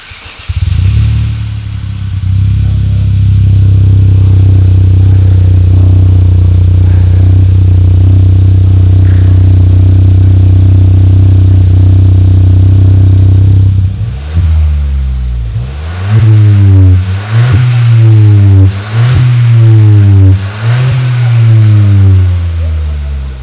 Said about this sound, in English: So finally, the exhaust has been fit. It's time to start the car.